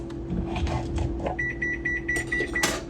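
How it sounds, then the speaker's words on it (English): Rolls going into a home kitchen oven, with a clunk of the oven door, a steady appliance hum, and a run of several short electronic beeps from the oven controls, ending in a rustle. "I'm putting rolls in the oven."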